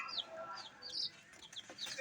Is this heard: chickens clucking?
yes